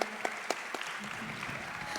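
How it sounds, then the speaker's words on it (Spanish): Audience clapping welcomes a speaker at a music contracts conference, a moderate, steady patter of many hands with a few distinct sharp claps near the start, continuing evenly for two seconds. "Bienvenida, Patricia, un aplauso para ella."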